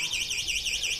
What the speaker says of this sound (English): Naka-activate yung alarm.